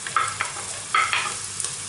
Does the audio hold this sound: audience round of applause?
no